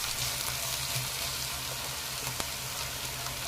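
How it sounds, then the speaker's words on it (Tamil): Okra pieces sautéing in oil in a pan, a soft steady sizzle with a faint low hum beneath and a single sharp tap partway through, no talking. "வெண்டைக்காயை இது மாதிரி நல்லா வதக்கிடலாங்க."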